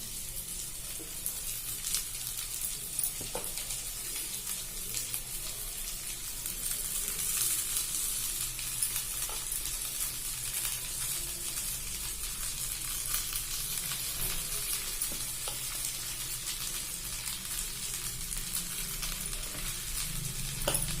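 Crumbled idli sizzles and fries steadily in a pan while being stirred for idli upma, a constant close crackling hiss with occasional scraping, no talking.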